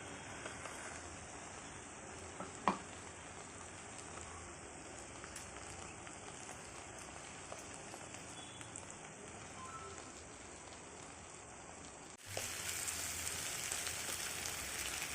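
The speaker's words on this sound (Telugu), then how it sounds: "వంకాయ ముక్కలు ఆయిల్ బాగా ఫ్రై అయ్యాక బంగాళదుంపలు వేయాలి" Brinjal and potato pieces fry in oil for a curry, giving a soft, constant crackling sizzle with one brief click partway through, then a sudden louder, hissier burst of frying near the end.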